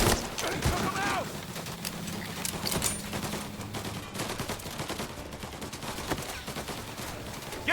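Rapid gunfire from a firefight in the video game Mafia Definitive Edition: dense bursts of shots and sharp cracks continue for the whole stretch, with muffled voices mixed in beneath.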